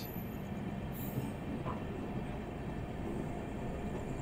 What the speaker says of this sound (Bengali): ফাইনালি ট্রেন এসে দাঁড়ালো নৈহাটি জাংশনে।